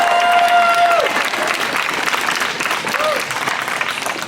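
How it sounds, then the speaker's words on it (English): A crowd at a Renaissance festival show claps loudly for a woman volunteer called up from the audience, dense and close at first, easing slightly as it continues. "let's give her a round of applause."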